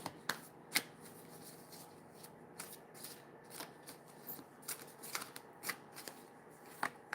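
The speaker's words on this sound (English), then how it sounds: "I'm going to be using the guiding light cards today" Guiding light oracle cards being shuffled by hand, a dry papery riffle repeated in quick bursts with sharp flicks and snaps between them, close and fairly quiet, with no talking.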